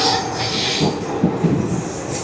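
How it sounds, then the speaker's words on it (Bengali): An express train departing Chennai Egmore rolls along the rails, a loud, close, steady rumble of wheels and carriages with a squeal and faint clatter. "এগমোর থেকে ছেড়ে দিল আমাদের ট্রেন নাম্বার 16-751 এক্সপ্রেস ট্রেন"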